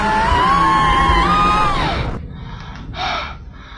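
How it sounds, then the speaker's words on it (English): A startled scream rises and wavers through the first two seconds, then drops off, followed by a short second outburst and a gasp, loud and close, as a player reacts to a sudden scare during a Halloween horror game session. "I was sorry for my Swedish scream there."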